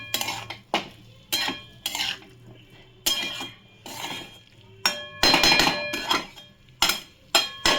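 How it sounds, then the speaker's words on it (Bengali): A spoon stirs a potato and cauliflower fry in a metal pan, giving repeated bursts of scraping and clinking in an uneven rhythm, close and fairly loud, with no talking. "এবার আমি এটাকে ঘেটে এবার ঢাকা দেবো, নেড়ে এবার এটা ঢাকা দিয়ে রান্না।"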